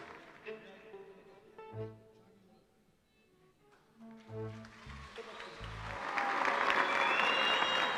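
Applause from the Popstar studio audience greets a returning singer, starting faint beneath music and voices, then swelling into loud, dense clapping over the final seconds.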